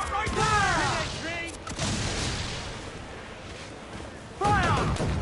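Ship cannons firing during a naval battle in Assassin's Creed IV Black Flag, heavy booming blasts rolling under shouted crew voices and battle noise.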